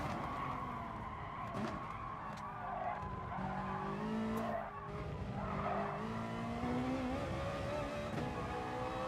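Race car tyres on hard compound squeal under understeer at Suzuka in GT Sport, with a wavering screech over the engine drone. It rises and falls through several corners.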